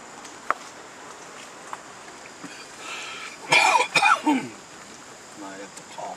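A couple of short, rough coughs sound close by in the middle, amid faint outdoor ambience and light background noise aboard the LST 325 warship.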